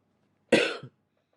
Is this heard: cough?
yes